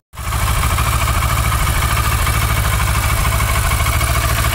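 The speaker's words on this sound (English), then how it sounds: "you just run the engine for a couple of minutes" Kawasaki Versys 650 motorcycle engine idling after an oil and filter change, a steady close, loud rhythmic low putter that starts abruptly and holds even throughout, with no talk.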